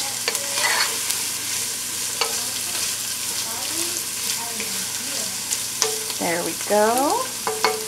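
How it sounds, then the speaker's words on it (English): Onion sautéing for chicken stew in a pot, a steady close sizzle with scraping stirs throughout, while a voice speaks briefly near the end. "And once that onion's cooked down a little bit, I'll bring it right back."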